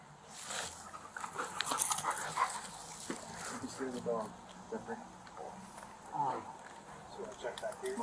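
A police dog barks in short bursts and whimpers intermittently amid footsteps and scuffling, close by, with people talking throughout and a handler giving commands.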